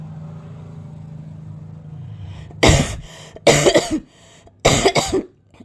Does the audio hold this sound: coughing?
yes